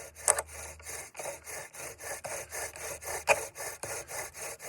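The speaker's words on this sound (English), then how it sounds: "saw the bow back and forth, not in a straight line, but we have to go at an angle" Wire saw cordage rasping back and forth on a wooden bow drill, a steady series of about a dozen rhythmic sawing strokes, close and alone with no talk.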